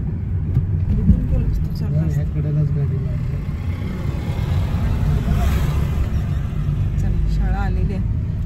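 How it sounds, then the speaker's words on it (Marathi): Vehicles arrive and pass near a school where parents are gathering, a steady low rumble of engines and traffic close by, with people talking throughout. "गाड्या आलीत भरपूर"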